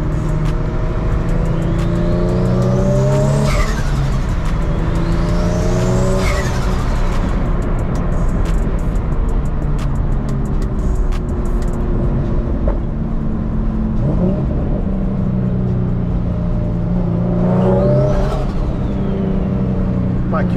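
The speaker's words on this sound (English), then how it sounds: "So wanted to give you guys a POV driving the car around." A 600 WHP Infiniti G37 IPL driving, its engine droning loudly throughout and rising in pitch through repeated revs and gear pulls, heard from inside the car.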